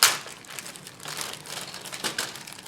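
A clear plastic bag holding Revell 1/144 ERJ190 model kit parts crinkles and rustles up close in a series of soft, irregular bursts.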